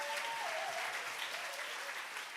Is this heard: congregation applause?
yes